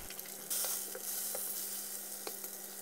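Salmon fries in butter in a pan over medium heat, giving a dense, continuous sizzle and crackle with occasional soft pops and a brief rise in intensity near the start, with no voices.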